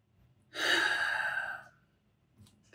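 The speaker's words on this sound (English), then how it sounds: "Take a deep breath." A single deep breath drawn in audibly and held briefly, close and alone with no talking, followed by quiet with a faint rustle near the end.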